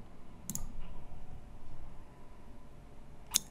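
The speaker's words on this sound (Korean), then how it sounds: "제출 버튼을 누를게요" Two crisp, isolated mouse clicks on a web form's submit button, close and clear over faint room hiss, with a quiet pause of nearly three seconds between them.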